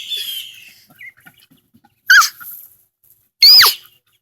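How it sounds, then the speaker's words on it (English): Ducklings and ducks on a pond give sharp, high peeping calls, a few loud isolated chirps separated by quiet gaps. "we're trying to enjoy these beautiful little duckies joining their parents that they don't know are their parents in the pond"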